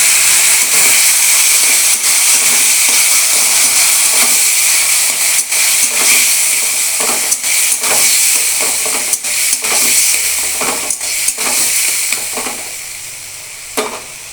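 Taro leaves fry in hot oil with black cumin and green chili, a loud, close, continuous hiss and sizzle with scattered crackles and spatula scrapes that eases off slightly near the end, no talking.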